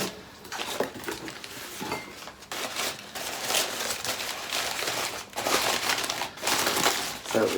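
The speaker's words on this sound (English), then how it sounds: "Again, all wrapped up in paper." Paper wrapping crinkles and rustles as it is pulled off a small handmade terracotta pot with ribbed lines, steady close crumpling with brief pauses, under occasional talk.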